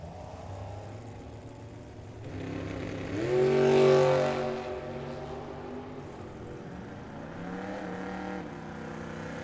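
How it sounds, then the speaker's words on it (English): A drag racing dragster accelerating down the track at Firebird Motorsports Park during a team race, with a broad engine roar that swells to a loud peak midway and then fades back into a steady background rumble. "Bob Chadwick, dragster, going to try and chase down Joe Cox."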